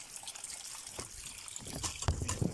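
A small trickle of water from a tank dribbles softly and steadily, faint and close, growing slightly louder toward the end.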